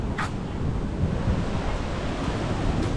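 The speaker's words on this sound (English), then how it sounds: "It looks like there's some strong waves." Strong ocean waves on Phu Quoc island, Vietnam, a continuous broad rushing wash of surf mixed with wind noise, steady and fairly loud with no talking.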